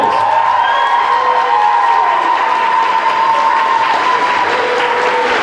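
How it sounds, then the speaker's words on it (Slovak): Loud, sustained applause and some cheering from the crowd at the Žarnovické pódium 2018 music event at Žarnovica castle, greeting an award for a band. Steady clapping continues throughout, with a ringing tone sustained underneath. "Veľký potlesk."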